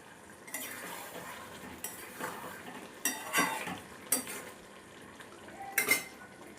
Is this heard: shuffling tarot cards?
no